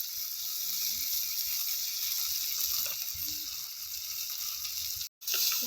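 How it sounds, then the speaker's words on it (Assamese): Ginger, garlic, chili and onion paste fries in a little oil for egg curry, giving a steady close hiss with faint stirring scrapes and a brief dropout near the end. "তেল অকণমান দি আদা নহৰু জলকীয়া পিঁয়াজ এয়া মিক্সাৰ কৰি দিয়া হৈছে"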